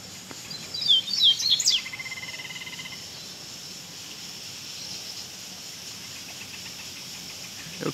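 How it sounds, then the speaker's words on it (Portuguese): Double-collared seedeaters (coleiro), a female calling and a male answering, give a quick run of high, thin chirps early on, then fall silent over a steady soft hiss. "A fêmea tá chamando ali, ó. O bradocão respondendo."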